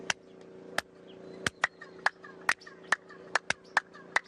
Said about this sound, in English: something where I clap and it sort of bounces back